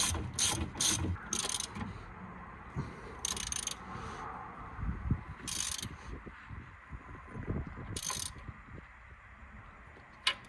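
A ratchet wrench clicks in quick bursts while tightening the outer track rod end nut on a 2nd-generation Ford Focus 1.6 TDCI, several separate runs of close, crisp clicking over a quiet background.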